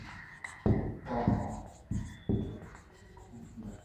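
Pen or chalk strokes scratch on a surface during a primary-school math lesson, in several short bursts of writing with pauses between them, close and fairly quiet.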